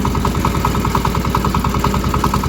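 A tractor engine runs loudly and close up with a steady, fast mechanical throb and a rhythmic knocking pulse while gears are shifted, and no voices are heard.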